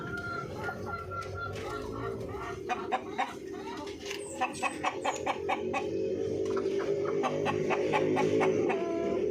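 Orpington breeder chickens cluck at a farm, with short repeated cackles and calls rising over a steady coop murmur, several birds close by; voices talk faintly in the background.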